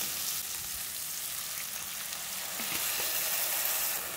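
Spices fried in oil in a kadai sizzle steadily as water is poured in, a close, continuous hiss that swells slightly louder toward the end, with no talking.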